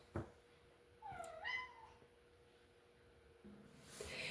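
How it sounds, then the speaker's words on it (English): A single cat meows once, a clear rising-and-falling cry close by in an otherwise quiet room, with a faint click before it. "And that noise you hear is my cat."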